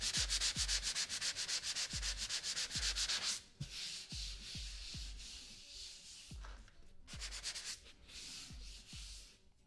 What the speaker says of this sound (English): You can sand it a little more.